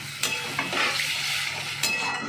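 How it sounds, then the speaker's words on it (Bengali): Tomato masala for paneer butter masala frying and sizzling in a pan after a little water is poured in, a soft steady hiss broken by a few sharp clinks of a utensil against the pan. "এবার আমি একটু জল দিয়ে দেবো, পরিমাণ মতো জল দেবো, যাতে টমেটোগুলো উপরে ভেজে থাকে আর কি, খুব বেশি নয়"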